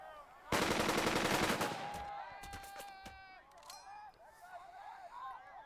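Squad rifle and machine-gun fire in the wartime strategy game Burden of Command, a dense rapid burst of shots up front, then scattered sharper reports fading under ringing tones and ambience.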